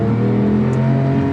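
A 3.8-litre naturally aspirated Porsche 911 Carrera 997.2 engine holds a loud, close, sustained rev with a strong harmonic growl, heard alone without talk.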